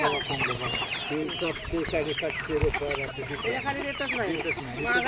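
Desi country chickens on a farm in a pomegranate orchard cluck and chatter constantly in a dense, close flock, with someone talking over them.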